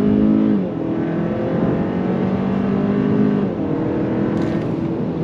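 A 2024 Hyundai Sonata N-Line mid-size sedan accelerating hard in sport mode, its engine note rising steadily through gears with a loud, continuous drone heard from inside the cabin.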